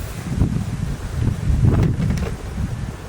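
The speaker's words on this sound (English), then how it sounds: "if the audio doesn't come out great, I'm sorry. It's just a windy day." Low, rumbling gusts of wind on a windy outdoor day buffet the microphone, swelling and easing in uneven waves with no voices present.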